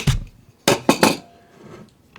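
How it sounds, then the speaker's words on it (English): The magazine ejects from a Zenith Tisas custom 1911 pistol with close metallic clacks: one sharp hit, then a rapid cluster of three bright clanks, followed by faint handling noise. "How about that for some mag ejection?"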